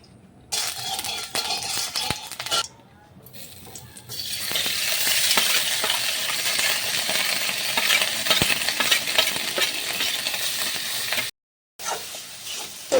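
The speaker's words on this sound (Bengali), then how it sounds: "এইভাবে কিন্তু হালকা করে নাড়াচাড়া করে নিতে হবে" Coconut filling stirred in a little ghee in a wok gives a bright, close sizzle with scraping strokes, quiet for the first few seconds, then steady and loud, with brief silent gaps near the end.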